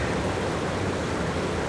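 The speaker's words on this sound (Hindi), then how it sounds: "यार ये झरना तो बहुत डरावना" A frightening waterfall in a horror setting, heard as a steady, dense broadband roar of falling water that stays loud and unbroken throughout, with no voices.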